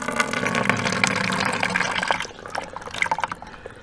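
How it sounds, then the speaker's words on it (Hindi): Water squeezed from a nasal rinse bottle flows out through the nose, giving a steady liquid splashing and trickling for about two seconds, then thinning into scattered drips, close and moderately loud with no talking. "इस बोतल के सिरे को इस तरह अपनी नाक पर लगाकर दबाएंगे तो आप देखेंगे कि पानी दूसरी तरफ से बाहर निकलने लगता है।"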